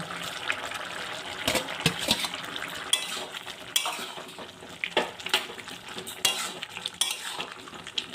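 A spoon stirs boiled eggs into a pan of potato egg curry, with scraping and clinking of utensil against the pan over a low simmer, close and moderately loud with irregular strokes.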